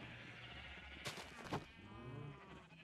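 A sheep in a modded Minecraft world gives a couple of short, bright bleats over a steady background hum, fairly close and moderately loud, with no talking.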